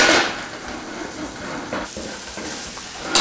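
Garlic and onion hit hot bacon fat in a new pan, giving a steady sizzle with a few stirring scrapes and clinks, close and fairly quiet.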